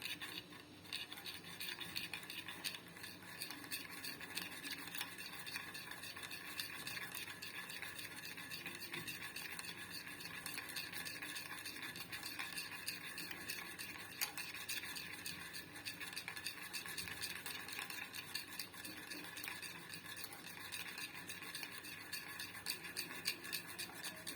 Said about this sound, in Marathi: कॉफी सगळीकडून मिक्स झाली पाहिजे आणि साखर पण मिक्स झाली पाहिजे.